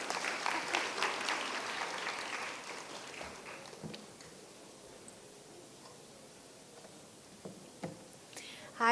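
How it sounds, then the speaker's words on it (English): Audience applause welcoming a speaker at a summit on gender equality and disability, a moderate burst of clapping at the start that thins out into scattered claps and quiet room noise. "Let's clap together once to welcome."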